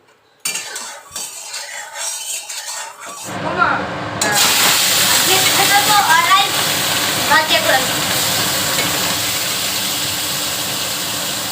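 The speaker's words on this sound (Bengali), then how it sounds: "এটাতে ভাত হচ্ছে, আর এখানে মাছটা ভেজে নিই।" Fish sizzling as it fries in hot oil in a pan on a home kitchen stove, a loud steady hiss close by, with utensils clinking against the pan at the start.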